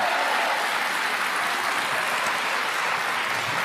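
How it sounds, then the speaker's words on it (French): Loud, dense studio audience applause on a French reality TV show, an unbroken wash of clapping that stays level for the whole stretch. "Applaudissements pour la Gazette"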